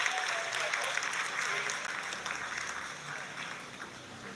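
Clapping spreads through the mission control room during the Chandrayaan-3 lunar landing, a dense and lively patter of many hands. Faint murmuring voices run beneath it as the clapping gradually eases.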